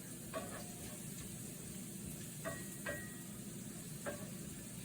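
Chicken sautéing in a pan for carbonara gives a soft, steady sizzle heard close up, broken by a few light clinks and stirring taps.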